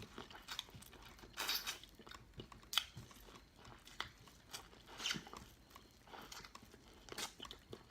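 Buttered Cajun corn on the cob being eaten right at the microphone: repeated crisp bites and crunching kernels mixed with moist chewing in an irregular rhythm, no talking.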